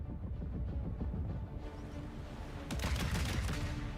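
Video game gunfire aimed at an enemy bomber rattles in rapid bursts over a constant engine-like drone, growing louder toward the end.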